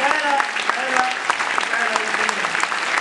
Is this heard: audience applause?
yes